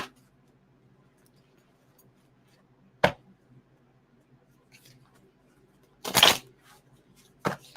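A deck of oracle cards is shuffled in a few quick, crisp riffling bursts with long quiet gaps between them in an otherwise still room.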